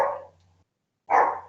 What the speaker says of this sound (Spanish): Perdón, justo mi perrito.